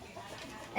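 A Dark Mahogany chicken on a farm gives a short, faint cluck at the very end of a brief quiet moment.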